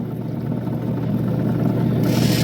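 A finer lapidary grinding wheel shaping an Australian Coober Pedy opal gives a steady, loud, close whirring rumble that brightens into a harsher grinding hiss near the end, with no talk.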